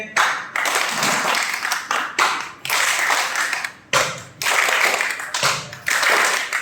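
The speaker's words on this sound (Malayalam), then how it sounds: "ഒരു ക്ലാപ്പ് ചെയ്യുമ്പോൾ നിങ്ങൾ 2 ക്ലാപ്പ് ചെയ്യാം" A group of people clap in unison during a clapping game at a community gathering, bursts of dense clapping in repeated blocks of about a second or two separated by short pauses, loud and close.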